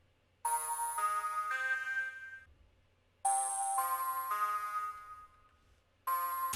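A plucky synth lead built in Serum for a hyperpop and glitchcore track, played as three bright harmonic phrases with sharp attacks and ringing sustains, separated by short gaps, loud and up close with no voice.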